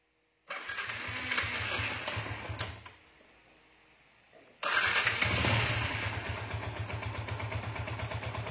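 A Yamaha Exciter 150 motorcycle engine is started twice, each time catching quickly and settling into a steady, close idle, with a brief quieter pause between the two runs.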